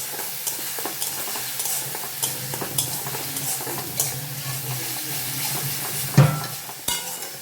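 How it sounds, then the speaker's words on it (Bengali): Ginger garlic paste frying in mustard oil in a pan, giving a steady close sizzle with repeated scrapes and clinks of a spoon stirring against the metal, and no voices. "আদা রসুনের পেস্টটা দিয়ে দিলাম, দিয়ে একটু ভেজে নেব।"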